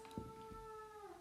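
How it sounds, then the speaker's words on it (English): A cat lets out a single drawn-out meow, a steady wavering cry that holds for over a second and fades at the end, moderately close with a couple of soft background thumps. "That was a cat"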